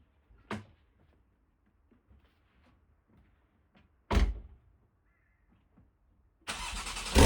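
A 2018 Porsche 911 Carrera T (991.2) with manual gearbox is cold-started: a couple of sharp thunks, then the engine catches and settles into a loud, steady idle.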